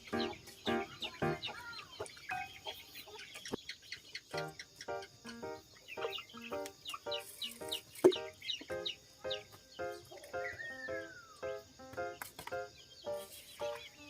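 Several chickens cluck and squawk in short, irregular bursts, close and fairly loud, with occasional higher calls mixed in.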